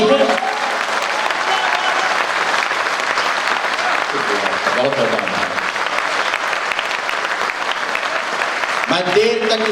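A large hall audience at a Hindi patriotic poetry recital by a poet breaks into loud, sustained clapping that fills the room; a voice is briefly heard over it near the start and again near the end.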